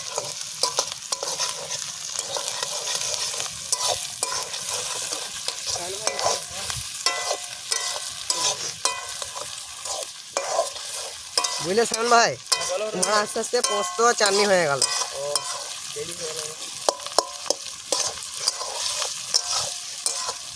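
Tomatoes and onions frying in a pan at an outdoor picnic, with a continuous sizzle and repeated stirring scrapes up close while people chat over the cooking.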